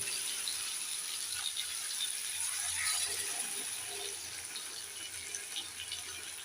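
Warm water is poured into a Bengali curry of bata fish with kakrol and potatoes cooking in a pan, giving a continuous close hiss and splash that holds steady throughout, with no talking.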